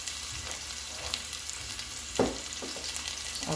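Onions frying in a pan for amaranth-leaf biteku teku, a steady soft sizzle running throughout with a single louder utensil stir or scrape partway through, close and moderately quiet with no talking.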